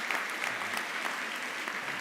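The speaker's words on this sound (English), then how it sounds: "Some of you are applauding, others of you are not." A school kickoff celebration audience breaks into applause, a dense wash of clapping hands that carries steadily through the hall with no voices on top.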